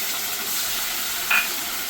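Green chilli, ginger, garlic and tomato paste fry in a pan for a katla fish kalia, a steady close hiss of sizzling oil with one brief clink near the end.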